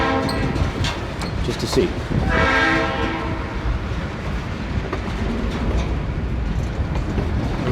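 Model locomotive under full throttle pulling a long string of about 13 cars on a layout track, a steady whirring rumble with clicking wheels, its wheels starting to spin, while someone talks over it.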